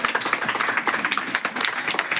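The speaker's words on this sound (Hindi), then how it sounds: "ताली नहीं बच्ची के लिए" An audience claps for a little girl: a dense, steady round of applause runs for a couple of seconds with no voices over it.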